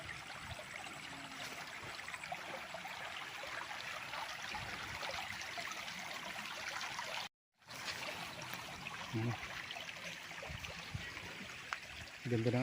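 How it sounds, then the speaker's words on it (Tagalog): Continuous rushing of a flowing stream on a farm lot in Pagsanjan, Laguna, Philippines, a steady broadband wash with a brief dropout partway through. "Ang gandang pakinggan ng agos ng tubig."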